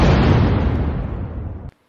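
A single loud explosion in the Minecraft video game: a heavy, rumbling boom that fades steadily for over a second before cutting off abruptly into silence.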